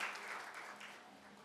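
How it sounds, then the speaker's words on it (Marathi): Audience at a Shri Ram Navami festival dance performance applauding, a soft, fairly distant bed of many hands clapping that tapers gently toward the end. "पुन्हा एकदा टाळ्यांचा आपण गजर करूयात"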